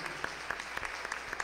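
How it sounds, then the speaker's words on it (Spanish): During a Saturday Mass in church, the congregation offers brief, faint applause for the Virgin Mary, heard as a short scattering of distinct claps. "Un aplauso bien grande a la Virgen."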